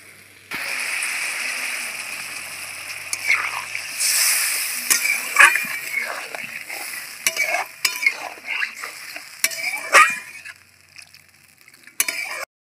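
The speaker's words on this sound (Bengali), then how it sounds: "এখন আমি জল দিয়ে দিচ্ছি" Water hits a sizzling fish curry masala in a pan, giving a burst of hissing spatter, followed by stirring with repeated metallic clinks of a spoon against the pan as the sizzle continues.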